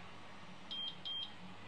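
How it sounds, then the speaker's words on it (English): A Turnigy 9XR radio transmitter gives two short, high electronic beeps in quick succession during head tracker setup, clear and close over a quiet background hum. "I hit the head tracker button, plug that in, you'll hear one beep"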